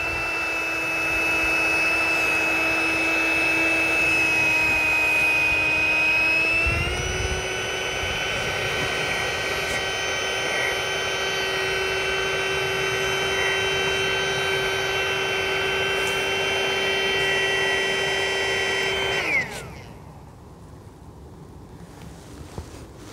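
Exped Widget mini pump fan inflating an Exped Sinmat sleeping mat, a loud steady whining drone up close that shifts pitch slightly partway through, then cuts off abruptly near the end leaving quiet room tone.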